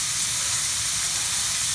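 Minced meat sizzles in butter in a frying pan, a loud, steady, bright hiss that stays constant without breaks, close up and with no talking over it.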